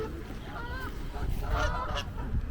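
Geese honk repeatedly close by in Cannon Hill Park, Birmingham, several nasal calls overlapping over a low outdoor background.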